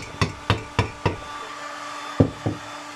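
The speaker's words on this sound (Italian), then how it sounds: "E prendo un martellino di gomma," A small rubber mallet taps a Polini Ciao moped part: six short, sharp knocks, four in a quick even run, then a pause and two more, close up with no talk.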